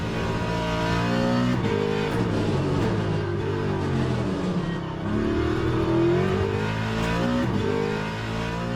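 Race car engine in Le Mans Ultimate, droning loudly and continuously through a braking zone as pitch falls and rises through downshifts, with a steady bed of engine and tyre noise throughout.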